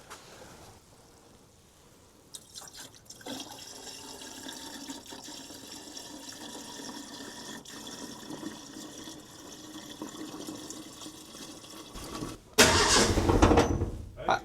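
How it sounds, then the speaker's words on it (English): Coolant pours into the engine of an old car being revived after nearly 15 years off the road, a steady watery rush over background noise that swells into a loud, sloshing gush near the end. "Put some coolant in it."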